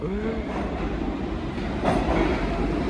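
A New York City subway train, a 6 or 4 line car, rumbling steadily nearby with a continuous low roar and a brief rising squeal early on.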